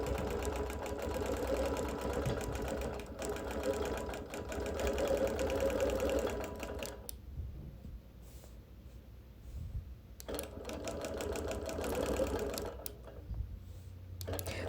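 A domestic sewing machine stitches a vertical ditch-quilting line through pinned quilt layers of busy print fabric, running in steady bursts with two short pauses, close and clear, with quiet handling noise between runs.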